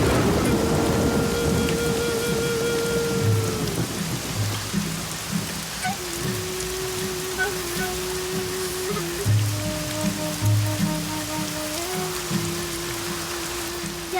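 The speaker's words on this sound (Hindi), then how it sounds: "बारिश रुकने वाली नहीं है बेटा" Heavy rain with thunder: a steady, loud wash of downpour with low rumbling, heard under sustained, drawn-out musical tones that run through the whole scene.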